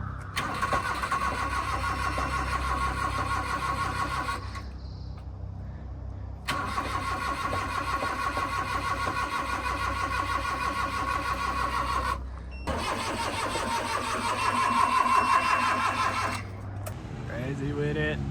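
A carbureted minicab engine starts and runs steadily, loud and close, with a steady droning idle that cuts out twice and picks back up before settling again.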